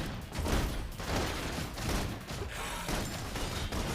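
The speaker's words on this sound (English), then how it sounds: "Requesting full suppression gunfire." Suppressive gunfire in the video game Love and Deepspace: rapid, faint bursts of shots crackling together in a dense, continuous volley over a few seconds.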